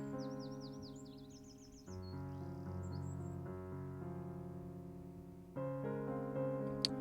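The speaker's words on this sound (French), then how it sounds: "les oiseaux ils chantent" Birdsong in the video game Fallstreak, quick chirping trills heard faintly at the start above sustained layered music chords that swell and shift, with no voices.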